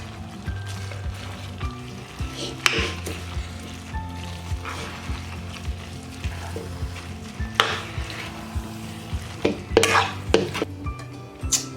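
Cabbage cooking in a hot pan for a vegetable noodle dish, a low sizzle with intermittent clinks and scrapes of a utensil against the pan, fairly quiet throughout.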